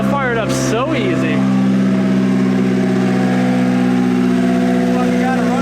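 A $200 project Honda Civic engine blips up and down in quick revs, then holds a steady, loud, close idle.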